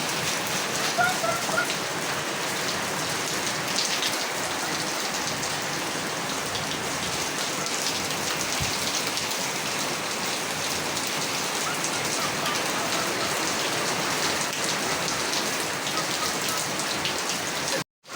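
Steady heavy rain pours down throughout, a dense unbroken hiss of drops hitting surfaces, loud and close, with no voices standing out.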